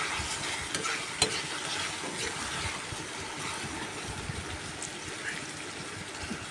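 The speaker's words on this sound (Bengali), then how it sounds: "সব শেষে রসুন আর পেঁয়াজের বাগার দিয়ে দিলাম, বেরেস্তা করে নিলাম ভালোভাবে।" Chopped garlic and onion fry in plenty of oil for a khichuri tempering, a soft continuous sizzle with light stirring and one brief clink early on, fairly faint and close.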